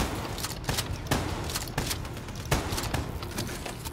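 Call of Duty Black Ops 3 gunfire crackles in rapid bursts and single shots at irregular intervals, moderately loud over a busy, noisy background.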